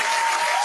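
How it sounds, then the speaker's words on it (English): Audience applause from a small crowd, a brief dense burst of clapping lasting under a second. "Round of applause for free things."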